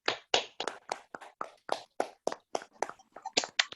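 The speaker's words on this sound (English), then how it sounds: "at least I request everybody to unmute and give a round of applause" Scattered applause from participants unmuting on a remote call, quick separate claps in an uneven rhythm, close and fairly crisp, with no talking.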